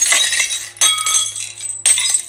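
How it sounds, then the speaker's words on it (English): Glasses falling off shelves clink and rattle in three quick bursts, bright ringing chinks close by, as if tumbling and knocking together. "Some glasses fell off the shelves."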